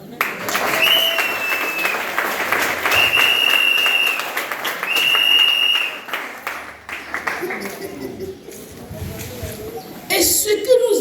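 A church congregation at an evangelistic gathering in Divo claps and cheers, sustained applause with whoops and shouts rising and falling, fairly close, with voices calling out over it.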